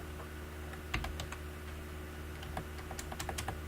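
Quiet, steady keystrokes on a computer keyboard, a run of light irregular clicks over a low electrical hum, with no voices.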